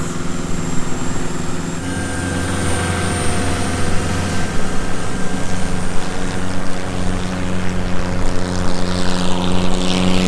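A boat engine in the Phi Phi Islands drones steadily nearby, a constant low rumble with a faint whine, building slightly louder toward the end; no talking.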